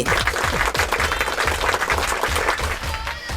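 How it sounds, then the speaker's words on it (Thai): Dense, steady applause from a crowd, many hands clapping at once throughout. "ปรบมือให้แบบโคตรปื้มเลยครับอีสองคนนี้นะ"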